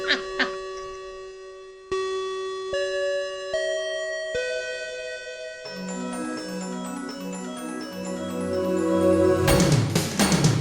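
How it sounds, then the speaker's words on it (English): Bell-like chimes ring out clearly at the close of an anime club podcast episode, a series of distinct struck tones with long sustains layering into a fuller, denser musical ending. "that bell means that you've reached the end of another meeting of the After School Anime Club"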